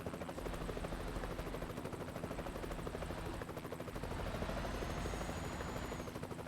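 A helicopter in the Euro Truck Simulator 2 video game gives a steady, rapid rotor chop and engine drone. It holds at a fairly constant level, alone with no talk, over several seconds.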